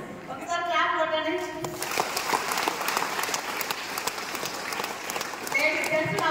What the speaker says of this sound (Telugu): ఒకసారి క్లాప్ కొట్టండి